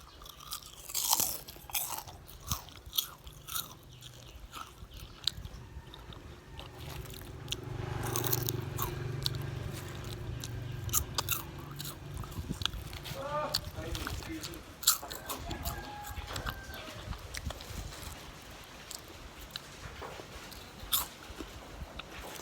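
Crisp crunchy bites of fried crispy food being eaten up close, repeated sharp cracks and chewing crunches in an irregular rhythm, with a person talking at times.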